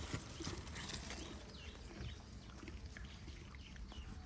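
Horse hooves clip-clopping at a steady walking pace, moderately close, a continuous rhythmic patter with some faint ambient noise around it and no speech.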